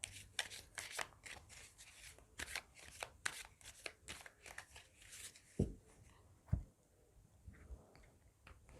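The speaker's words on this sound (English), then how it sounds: "So now here we're going to shuffle the cards for Sagittarius." Tarot cards being shuffled by hand at close range: quiet, rapid papery riffles and slides in steady bursts, ending with a couple of soft thumps as the deck is squared.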